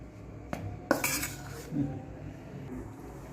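Sorghum flour being mixed with hot water in a bowl for jowar roti, heard as a few sharp utensil clinks and a scraping burst near the start, then soft stirring and rubbing sounds close by, with no talking.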